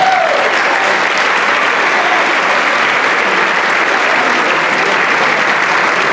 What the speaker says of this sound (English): I'd like to give us a round of applause for Ms. Cameron Barr